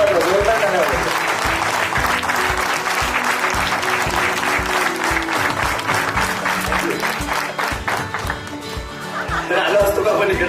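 A large audience bursts into loud, sustained applause in a hall, dense clapping filling the whole stretch with some cheering and scattered chatter mixed in, easing briefly near the end before swelling again.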